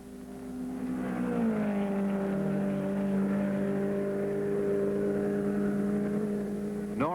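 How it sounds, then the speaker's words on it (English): A 1964 Shelby Cobra and Corvette Stingray race at Road America, with a steady engine drone that climbs in pitch early on and then holds. It ends in a sharp rising whine. "Miles' very fast Cobra stays easily in front of the pursuing Stingray"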